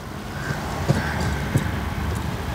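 A car pulls away in first gear during a driving lesson, a low steady engine hum with a couple of soft thumps, fairly close and moderate in level.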